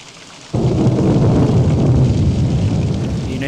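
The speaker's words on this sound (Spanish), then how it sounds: "No hay más ruido que el de la lluvia y la tormenta." Steady rain and storm rumble in the horror video game Nun Massacre, set on a mountain, starting abruptly and continuing as a dense, loud, constant wash with a low thundery roar.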